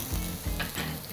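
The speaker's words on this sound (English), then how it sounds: "Then add your shallots" Shallots frying in hot olive oil in a pot, a brief, fairly faint, steady sizzle with a couple of soft stirring scrapes.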